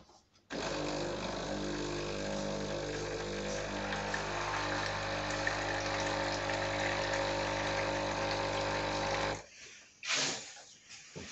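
A coffee machine runs its water outlet for an Americano, giving a steady loud pumping hum and stream that lasts about nine seconds, then cuts off, leaving a few brief bursts of handling noise.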